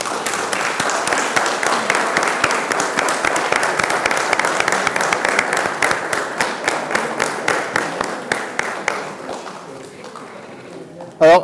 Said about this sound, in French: je pense qu'on peut encore les applaudir bien fort